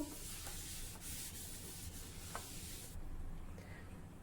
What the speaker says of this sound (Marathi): हे तव्यावर थोडस तेल घालूया टिश्यू पेपरच्या साह्याने हे या प्रकारे तव्यावर पसरवून घेऊ